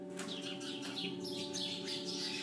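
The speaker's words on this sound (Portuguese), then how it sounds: "Ó, os passarinhos chegaram agora" Birds chirp outdoors in a series of quick, high tweets and short calls, fairly close and clear, over a steady low hum in the background.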